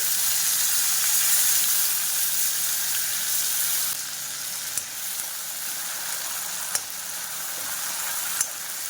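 Chopped onion and tomato sauté in a pan for a cabbage-free capsicum curry, giving a steady broadband sizzle with a few sharp clicks of a spoon against the pan.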